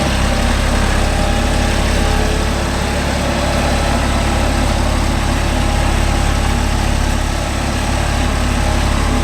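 A Deutz-Fahr 80 hp 4WD tractor pulls a five-point cultivator through farmland, its heavy diesel engine droning loud and steady with a deep, continuous rumble and no voices.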